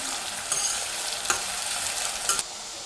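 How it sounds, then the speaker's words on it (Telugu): Onion and green chillies frying in hot oil, a steady bright sizzle throughout with a few soft stirring scrapes, close and without speech. "నూనె వేడెక్కింది ఇప్పుడు ఉల్లిపాయ పచ్చిమిరపకాయ వేసుకుందాం"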